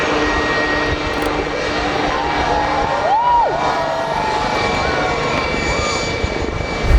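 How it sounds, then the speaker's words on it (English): A Russian Su-57 fighter jet at the Zhuhai Airshow gives a steady, loud engine roar that holds for several seconds, with a faint whistling tone sweeping through it. "with a roar that seemed to shake the ground itself, the engines fired up."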